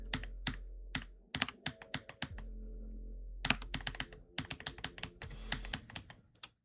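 Close computer keyboard and mouse clicks during a game of Geometry Dash, sharp irregular taps in quick bursts with short pauses, over a low steady hum.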